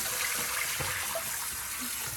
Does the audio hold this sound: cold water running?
yes